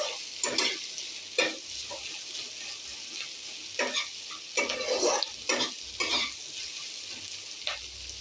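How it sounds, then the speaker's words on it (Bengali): Onions stir-fried in a pan sizzle softly while a spatula scrapes and stirs in a loose, irregular rhythm, heard up close and without voices. "পেঁয়াজটা যতক্ষণ না হালকা লাল লাল করে ভাজা হচ্ছে ততক্ষণ ভাজতে থাকবে।"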